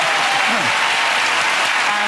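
Dense, loud studio audience applause from a TV panel show fills the whole short stretch with a continuous, even roar of clapping.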